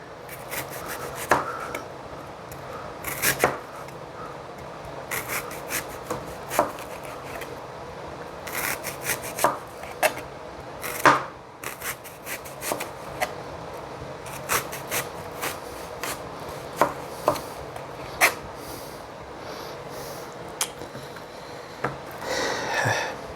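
A knife slicing a vegetable into thin rings on a cutting board for a vegan Mediterranean pasta salad, heard as rapid, close chopping taps in irregular bursts with soft scraping between them.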